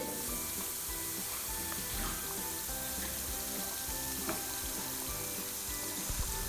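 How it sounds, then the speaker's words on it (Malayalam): Prawn fritters frying in hot oil in a pan give a continuous, even sizzle and crackle at moderate volume, close by, with faint background tones and no one speaking. "ഓയിൽ ഒഴിച്ചിട്ട് നമുക്കിത് ഫ്രൈ ചെയ്തെടുക്കാം."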